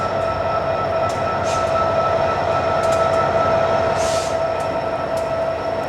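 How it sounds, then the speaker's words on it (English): A locomotive train passing close by as a loud, continuous rail roar with steady rumbling wheels, a sustained high whine and a few brief squeals over the top. "You can see why locomotives are not the preferred method of transportation today."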